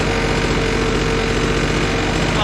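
Late-1990s Honda Harmony lawn mower engine running off choke at low idle after a pull-cord start, a steady close rumbling chug throughout with a faint voice underneath.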